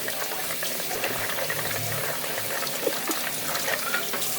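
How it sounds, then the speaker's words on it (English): Almonds rinsed in a metal strainer under running water from a tap, a steady close splashing and trickling wash that runs throughout with small clinks and bursts of spray. "Give them a good rinse."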